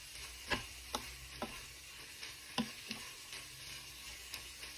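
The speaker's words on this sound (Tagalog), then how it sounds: "Pwede na ang ating stir-fry mixed vegetable. Mix lang natin." Stir-fry mixed vegetables tossed in a pan: a steady soft sizzle runs throughout while a spatula knocks and scrapes at uneven intervals, quiet and close with no voices.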